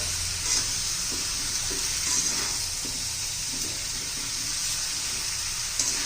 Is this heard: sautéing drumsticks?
yes